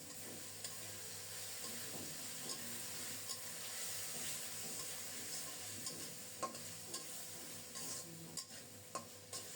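A spice masala with tomato, turmeric and salt is stirred and fried in a pan. A constant low sizzle runs under repeated scraping strokes of a spoon against the pan, which grow sharper and louder toward the end.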